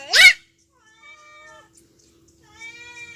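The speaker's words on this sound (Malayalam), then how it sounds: "മീൻ്റെ മണം കിട്ടിയോണ്ടാ വരുന്ന പൂച്ച" A house cat drawn by the smell of fish in a kitchen gives a sharp close meow, then two longer, softer drawn-out meows after a pause, with little else around.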